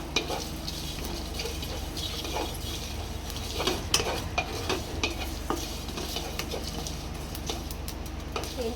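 Spices for a raw mango sweet chutney roasting in a pan until red, a steady close sizzle with frequent scraping stir strokes throughout.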